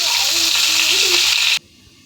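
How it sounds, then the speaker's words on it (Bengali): Potatoes and pointed gourd fry in oil in a wok with a loud, close, steady sizzle and a faint voice underneath, before the sound cuts off abruptly into near silence. "এই আলু পটলগুলোকে ভালোভাবে ভেজে নেব। আলু পটলগুলো তেলের মধ্যে দিয়ে দিয়েছি।"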